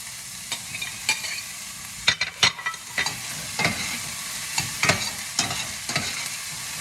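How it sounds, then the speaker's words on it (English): Mushrooms sauté in a pan over medium-high heat, with a soft steady sizzle and irregular scraping clacks of a utensil stirring them up close. "Then we're going to add the mushrooms."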